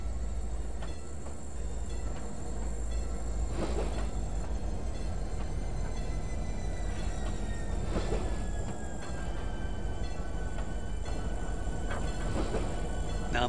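A locomotive shoving a cut of freight cars in the rail simulator Trainz 2019, a steady rumbling roll of wheels on track with faint squeals and clanks throughout, no talk.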